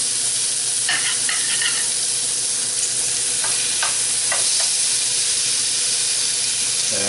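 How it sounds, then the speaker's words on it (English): Venison backstrap with bacon sears in a hot pan, giving a loud, continuous sizzle and hiss with a few light scraping stirs, and no voices. "And we're going to give that a sear."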